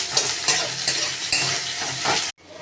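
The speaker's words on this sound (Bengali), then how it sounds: "দিয়ে ভালো করে নেড়ে নিচ্ছি।" Potato and chopped onion fry in mustard oil in a pan, sizzling steadily while a utensil stirs and scrapes in repeated pulses, close up, before the sound cuts off abruptly near the end.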